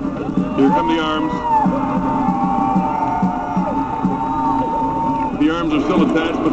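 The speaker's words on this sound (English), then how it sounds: "The arms are still attached, but they've now collapsed, and that's what you heard the crowd reacting to." A large crowd at the Burning Man 2009 burn roars and cheers as the effigy's arms collapse, a continuous distant mass of voices with close speech running over it.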